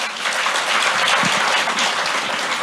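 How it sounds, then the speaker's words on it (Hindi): An audience at a televised interview with Punjab's chief minister breaks into loud, sustained applause, dense and even from start to finish across a few seconds with no speech over it. "इसके लिए तालियां बजनी चाहिए।"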